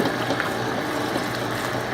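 Water pours steadily into flour in a mixing bowl, a constant close, even rushing gush with no pauses and no talking.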